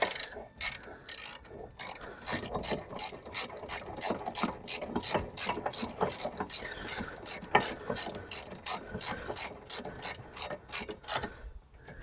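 A ratchet wrench clicks in a fast, steady series while brake caliper bolts on a Mazda MX5 NC are tightened. The close, sharp ratcheting carries on without a break and no one speaks.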